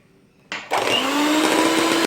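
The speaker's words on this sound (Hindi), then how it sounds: "लेकिन मैं बीटर भी साथ चलाती रहूँगी और ऑयल भी ऐड करूँगी।" An electric hand beater whirs into soft tea cake batter: the motor kicks on, steps up to a higher speed, runs at a steady close drone for about a second and a half, then cuts off.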